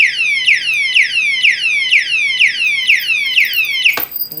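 An LL9805 window and door gate alarm sounds a rapid, loud electronic chirp, with eight falling sweeps repeating about twice a second before a click cuts it off near the end.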